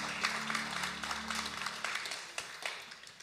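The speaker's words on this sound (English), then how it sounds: "Give him a big round of applause." Faint applause from an audience, a soft wash of scattered clapping, after a low sustained tone fades out.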